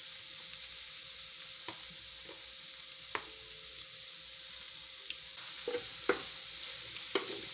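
Shrimp with capers fries on a flat-top griddle while being stirred, a steady close sizzle with scattered scraping and clicking strokes of the spatula, busier toward the end.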